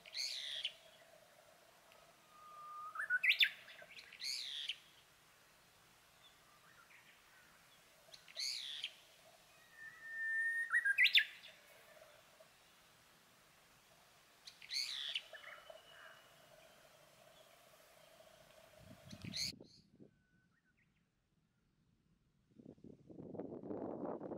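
Birds chirp and trill in scattered short bursts in a forest at Jeolmul Oreum, over a faint, steady background, followed by a soft rustling near the end.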